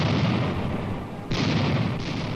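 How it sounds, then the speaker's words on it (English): Soviet artillery fire booms heavily in dense, sustained bursts, with a sharp new blast landing midway through a continuous roar of cannon fire. "Entire villages of kulaks are wiped out by Soviet cannon fire"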